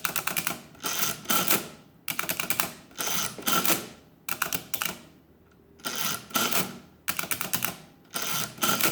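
A Swift adding machine clatters as numbers are entered, bursts of rapid mechanical key strikes and ratcheting in short rhythmic runs separated by brief pauses, close and crisp.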